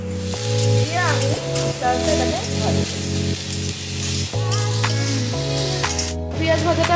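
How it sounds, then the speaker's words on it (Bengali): Onions with salt and turmeric fry in a pan over a lowered gas flame, a steady close sizzle that runs beneath background music. "পেঁয়াজ ভাজাটা হতে থাক"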